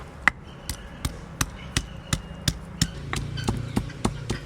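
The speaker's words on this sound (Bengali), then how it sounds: "আদা আর রসুনটা ছেঁচা হয়ে গেছে" Ginger and garlic are crushed with a heavy stone, about fifteen sharp pounding thuds landing in an even rhythm, close and clear.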